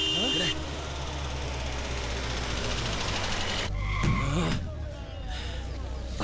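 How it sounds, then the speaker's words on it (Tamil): A vehicle drives up and arrives on a rural road, its engine and tyre rumble loud and continuous throughout, with a brief surge near the end as it pulls in; speech is faintly present underneath. "வைத்தியநாதர் வண்டி வருதுனே."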